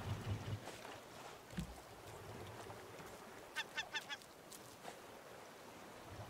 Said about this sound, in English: Motherfucking seagull!